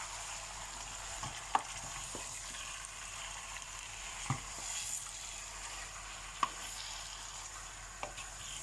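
Beef curry with potatoes frying in a pan, a soft steady sizzle with a few sharp scraping clinks as it is stirred, no talking.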